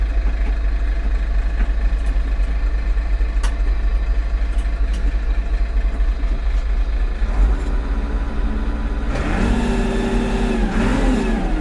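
A six-cylinder tractor with an air-conditioned cab runs at a steady idle, then revs up loudly toward the end, the engine pitch rising and holding near the microphone.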